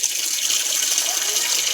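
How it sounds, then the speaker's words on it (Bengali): Running tap water pours steadily into a bucket, a continuous close hiss and gush filling the whole short stretch without pause. "এই বালতিটা জল করে নিই"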